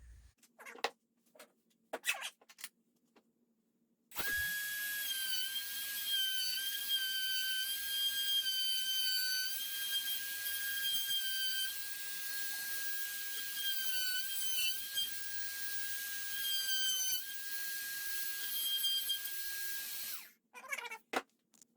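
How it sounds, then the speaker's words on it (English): A wood router cutting deeper tenon slots in a wooden garage door panel, a loud, steady high whine running about sixteen seconds after brief handling knocks, then stopping, with no talking. "I'm just going to try to route out just a little bit more depth here"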